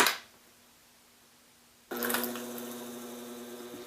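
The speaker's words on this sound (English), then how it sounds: "So this is my magnetic stir." A homemade magnetic stirrer built from an old blender motor starts up after a quiet pause, its steady motor whir and liquid churning running close and continuous until the end.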